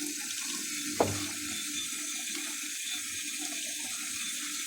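Water runs from a tap in a steady stream for mixing powdered milk, with a brief knock near the start and a continuous pour that carries on to the end.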